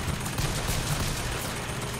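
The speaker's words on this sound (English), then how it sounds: "there's also machine gun fire from a turret or something" A machine gun turret in BioShock Infinite fires dense, continuous rattling gunfire, loud and unbroken throughout the short burst, with no voices over it.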